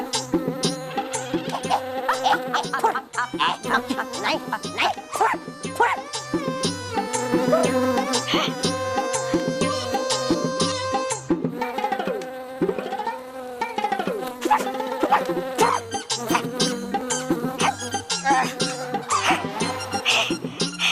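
A housefly buzzes in a fantasy superhero TV episode, its insect drone woven through a busy stretch of music and sound effects with pulsing rhythm that stays prominent for the full length.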